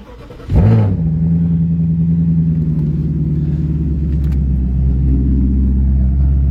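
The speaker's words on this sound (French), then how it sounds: "Vous allez avoir la chance d'écouter un V8 atmosphérique en cold start avec une ligne semi-inox" An Audi A6 with a naturally aspirated V8 cold-starts through a semi-stainless exhaust, a sharp crank and flare up followed by a loud, steady, deep rumbling idle close by.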